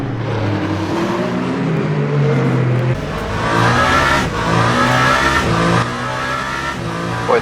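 A race car in the Le Mans Ultimate racing game runs off into the gravel at Indianapolis, its engine loud and sustained with shifting revs and rough crunching noise over the top.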